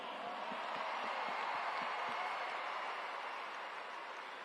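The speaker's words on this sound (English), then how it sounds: "Give all these dudes right here a round of applause." A stadium crowd at the Savannah Bananas vs Texas Tailgaters Banana Ball World Tour finale applauds the team, a steady dense wash of clapping and cheering that holds at full strength throughout.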